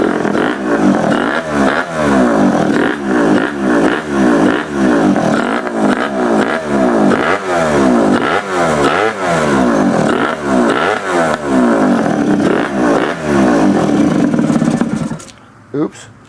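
A Honda Dio scooter engine with a carburetor fault revs up and down in a steady rhythm of rising and falling pulls, loud and close, for about fifteen seconds before cutting out abruptly.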